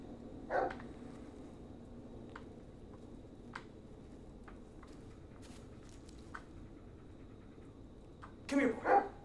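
Bullet, a dog in the Blair Witch video game, gives short barks and whimpers at the start and again near the end, separated by a long, quiet stretch of faint ambient sound.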